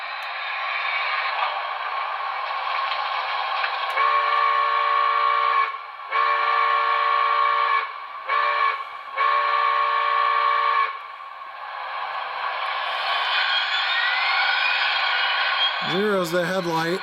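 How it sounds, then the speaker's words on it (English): A sound-equipped brass HO model of a PRR Q2 Duplex 4-4-6-4 steam locomotive gives a grade crossing whistle pattern: a steady droning tone, then several long and short blasts, loud and close, ending in a brief rising mechanical whine. "13 is grade crossing whistle."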